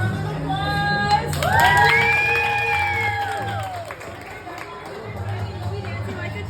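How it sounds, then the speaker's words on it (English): A restaurant crowd at Hooters cheers and shouts for a birthday, with loud whoops and rising voices over busy chatter, fading into lighter clapping and babble. "Can we give him a round of applause?"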